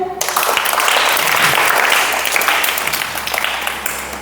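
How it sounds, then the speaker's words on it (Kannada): Children at a summer camp applaud the tortoise after a story race, a loud, dense burst of many small hands clapping that holds steady for several seconds before tapering slightly. "ಆಮೆ ಗೆಲ್ತು. ಆಮೆಗೊಂದು ಚಪ್ಪಾಳೆ."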